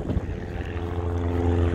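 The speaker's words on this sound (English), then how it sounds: "Today the group is composed of four airplanes, a Cessna 150." Light airplane, such as a Cessna 150, running its engine with a steady propeller drone and a low tonal hum, close and continuous at a small airfield.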